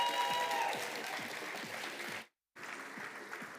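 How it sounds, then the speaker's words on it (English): Audience applause fills a startup showcase hall as a speaker is welcomed to the stage, a dense steady clatter of many hands that cuts out abruptly for a moment and then resumes. "Big round of applause, please."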